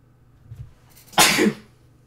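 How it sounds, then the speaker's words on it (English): A single sharp sneeze bursts out close to the microphone after a soft intake of breath, then quiet returns. "I'm gonna sneeze."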